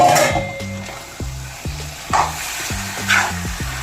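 Liver sizzling in masala for a Kerala-style liver roast, a steady fry with a series of spoon scrapes and stirring knocks against the pan at a regular pace, close and alone.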